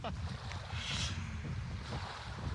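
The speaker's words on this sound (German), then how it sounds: "It's pretty windy at Martin's base" Strong wind buffets the microphone on a beach, a steady roaring rush with low rumbling gusts and a faint background of surf, loud and continuous throughout with no voices.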